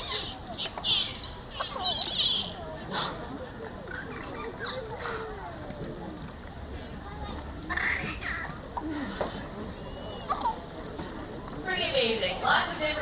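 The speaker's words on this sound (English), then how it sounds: "High clicks, low clicks, chirps, clicks, grunts, squeals" Rapid high clicks, chirps and squeals from dolphins at a dolphin show, scattered and irregular, with some low grunting textures in a noisy underwater background.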